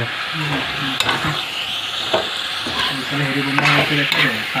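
Potatoes drop into hot oil in a pan and set off a steady, loud sizzle that carries on for the whole stretch. A few short clatters of a utensil against the pan break through it, and a voice speaks once, quietly, in the background.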